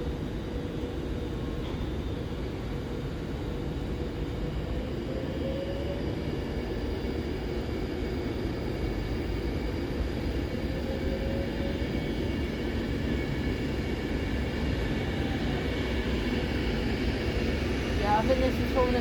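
A passenger train departs Stafford on the West Coast Main Line heading toward Euston, a low steady rumble of engine and wheels holding evenly throughout, moderately distant.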